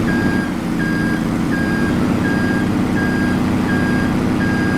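A truck in Farming Simulator 22 sounds a steady reversing beep, evenly spaced pulses repeating about every three-quarters of a second over a loud, constant engine rumble.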